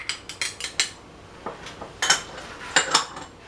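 A spoon clinks against a bowl while ground cinnamon is mixed into dry ingredients for a lemon pound cake: a quick run of light taps, a pause, then a few more scattered clinks, close and clear with no talk.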